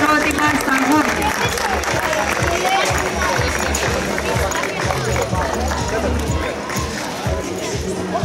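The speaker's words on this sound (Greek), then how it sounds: "Το χειροκρότημα στα γόρια" Applause for the third-place boys at an award ceremony, a steady patter of many hands clapping throughout, with talk from an announcer mixed in.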